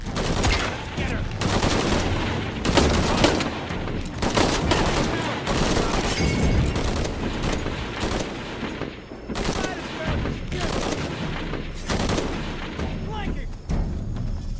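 Heavy automatic gunfire in Shadow of the Tomb Raider, with dense, loud rattling bursts of shots continuing almost without pause, mixed with the clatter of a firefight.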